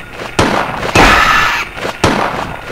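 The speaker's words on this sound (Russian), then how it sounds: "Вот последний выстрел." Gunfire in the video game Silent Hill: several sharp, loud shots ring out at irregular intervals, each with a short booming tail, with no voices.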